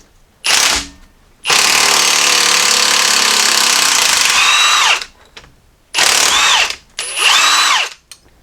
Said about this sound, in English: Alright, now we'll start pulling off these head bolts.